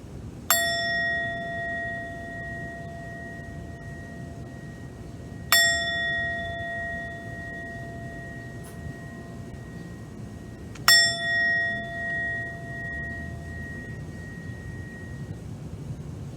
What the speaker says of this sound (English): and 3 bells.